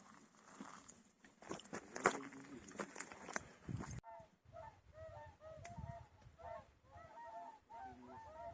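Geese on a hunt in the Komi region honk in repeated overlapping calls as they land at a moderate distance, following a stretch of rustling and handling noise close by.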